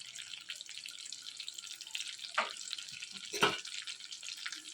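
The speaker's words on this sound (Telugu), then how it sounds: "కొద్దిగా జీలకర్ర కూడా వేసుకొని బాగా వేయించుకోవాలి." Cumin seeds and dried red chillies sizzle steadily in a pan of hot oil for peanut chutney, a continuous close hiss with a couple of brief stirring clatters and no talking.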